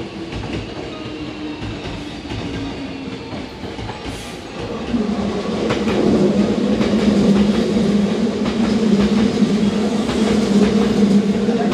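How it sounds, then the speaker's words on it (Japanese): A Hankyu express train bound for Takarazuka rolls into Juso station, its deep steady rumble and wheel clatter growing louder and closer as it pulls alongside the platform. "まもなく3号線に宝塚方面へ向かう電車が到着します"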